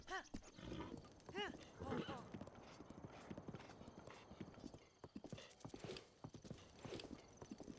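Rhythmic clip-clop of horse hooves at a fast pace in the video game The Legend of Zelda: Breath of the Wild, with a horse whinnying and a voice talking over it.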